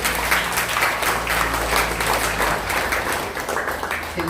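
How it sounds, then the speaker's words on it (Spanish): A Pentecostal church congregation claps together during a sermon, a dense, loud and steady burst of applause that tapers slightly toward the end. "Dale las palmas al Señor Jesús"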